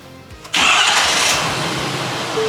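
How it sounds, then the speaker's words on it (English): Pickup truck engine cranks briefly and fires up, settling into a loud, steady idle close by, with no voices. "Truck fired right up."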